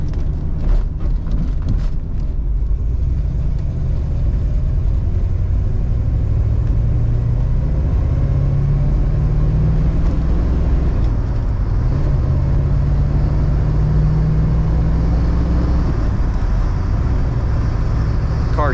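A 1969 Chevrolet Camaro with a 350ci V8 drives steadily, a loud continuous low engine rumble with slight pitch changes as it shifts.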